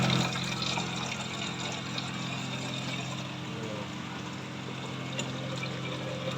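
A coin-operated water vending machine in Chiang Mai, Thailand runs its pump and pours a steady, faint gushing stream of water, unbroken for several seconds.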